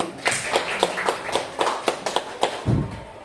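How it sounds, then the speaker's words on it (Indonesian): A small audience at a school teachers' session gives sparse, fairly rhythmic applause, a series of distinct claps close by, ending with a dull thud. "Kita beri tepuk tangan dulu"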